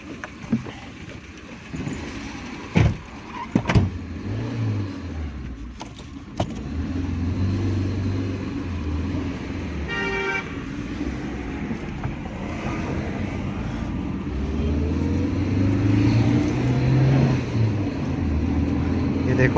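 A Suzuki Baleno's petrol engine runs steadily after a fuel pump repair, its low hum continuing throughout, with a few sharp knocks early on and a rising whine toward the end.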